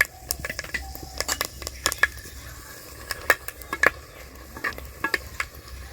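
Whole spices, dried red chillies, bay leaves, cloves, cinnamon and cardamom, sizzle in hot oil as tempering for a rustic chicken curry, with sharp crackles and pops and stirring clinks over a soft frying hiss.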